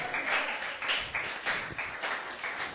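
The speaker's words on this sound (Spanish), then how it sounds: "Y entonces, denle ese aplauso al Señor." A church congregation claps in a rhythmic pattern of repeated bursts, fairly even and moderately loud, with no talking over it.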